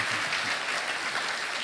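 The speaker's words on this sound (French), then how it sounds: "Tonnerre d'applaudissements, s'il vous plaît" Audience applause for an award winner at the 2022 Cantal business trophies, a dense, steady burst of clapping from a full room, close and sustained.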